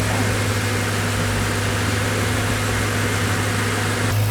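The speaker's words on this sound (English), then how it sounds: "And we're just gonna let her run for a little bit." A BMW E92 M3 sits idling with its engine running steadily, a constant low hum with a strong even drone and no revs or pauses, close by and with no talking.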